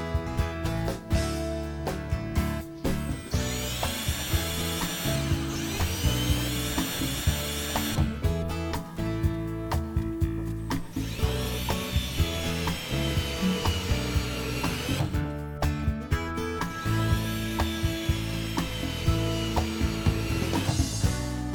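Power tools drive screws into wall studs to secure a bathtub, in repeated bursts, with whirring motor runs, ratcheting clicks and knocks throughout, loud and close.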